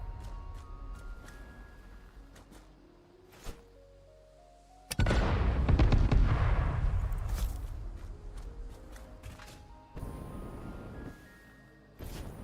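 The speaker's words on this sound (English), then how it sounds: "With a cluster grenade. Or" Cluster grenade blasts in the video game Satisfactory land as a sudden heavy boom with a rumbling tail, then a second lighter burst. Short rising game tones and clicks sound around them.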